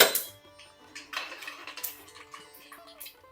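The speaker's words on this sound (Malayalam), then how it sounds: "കടുക് പൊട്ടട്ടെ" Mustard seeds crackle in hot oil with a rapid scatter of small, close pops and ticks after a sharp opening clink, continuing unevenly throughout.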